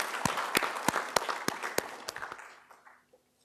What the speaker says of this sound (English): Let's have a big round of applause for our chief guest